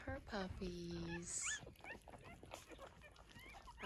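Newborn Cavalier puppies whimpering and squeaking as they crowd their mother to feed in the morning, high thin cries close by, with a person speaking softly over them.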